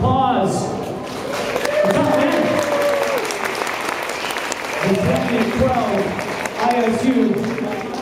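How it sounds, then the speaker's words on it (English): Sustained applause from a crowd at a figure skating medal ceremony, loud and steady throughout, with voices and cheers mixed into the clapping. "Ladies and gentlemen, a round of applause."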